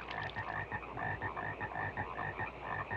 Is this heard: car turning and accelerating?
no